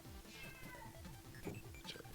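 A pet cat meows several times, faint and a little distant, under a steady background hum during a casual online group chat.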